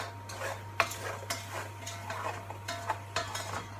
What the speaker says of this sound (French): Vous mélangez bien pour bien imprégner les fruits avec le sucre.